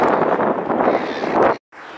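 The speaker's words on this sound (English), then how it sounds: "So you can probably hear it's quite windy." Wind at Sydney Harbour buffets the microphone as a loud, rough, continuous rush, broken by one brief dropout near the end.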